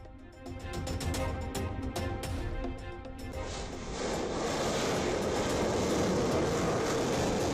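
Rumbling train crossing a bridge in Kangra, Himachal Pradesh during heavy rain, a steady loud roar with rhythmic clatter early on that swells into a broader, noisier rush.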